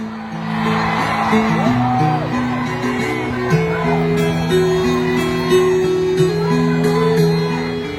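A large crowd at a political rally in Davao, Philippines roars and shouts together, loud and sustained, with whoops rising over a steady droning tone.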